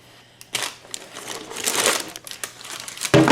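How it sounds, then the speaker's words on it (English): Parchment paper crinkles and rustles under a freshly baked loaf of yeast bread, sharp close crackles coming in irregular bursts with short pauses between them. "this is why I love parchment paper"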